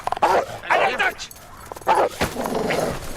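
A police sniffer dog named Grizzly barks during a training session, several sharp, close barks in uneven bursts mixed with yips and whimpery sounds, with a person speaking in between.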